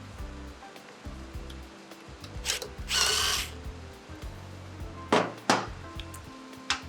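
A power tool fitted with a 6mm Allen bit removes the foot peg from an RX1E electric motorcycle, giving a couple of short whirring bursts followed by a longer close driving burst and two more quick spins.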